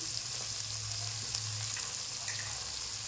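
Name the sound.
turmeric and salt sizzling in frying oil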